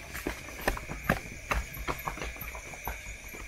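A horse's hooves clip-clop in an irregular run of sharp knocks at moderate distance, with some overlapping strikes. The hoofbeats sound fairly faint against a soft background hiss.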